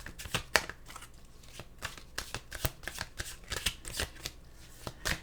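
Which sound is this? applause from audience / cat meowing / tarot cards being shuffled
tarot cards being shuffled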